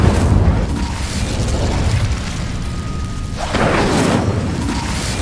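An Incendio fire spell ignites dry vines in the video game Hogwarts Legacy, a loud whooshing burst that flares up, eases off, then flares again, with no talk over it.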